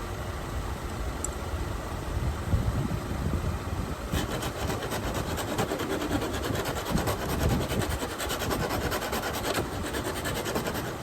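A flat bastard file smooths a car part for an Audi 2.0T TFSI turbo intake modification, making a continuous raspy scraping at close range with steady strokes and no speech.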